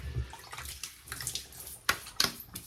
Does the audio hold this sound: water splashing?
yes